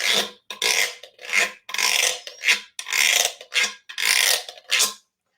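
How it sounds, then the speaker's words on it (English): A guiro scraped in a series of about nine rasping strokes, each a short burst of ridged scratching with brief gaps between, close and clear with no talk. "So that's the sound that a gyro makes when you scrape it."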